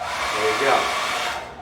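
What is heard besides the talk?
hair dryer switching on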